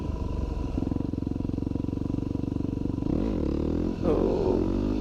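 A Yamaha WR250R dual-sport motorcycle engine drones at steady high revs, then blips and surges as the throttle opens for a wheelie attempt, close and loud, with no talk.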